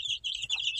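A rooster kept with young chicks gives a short series of three quick, clipped clucks, close by and fairly soft, with no other sound around it.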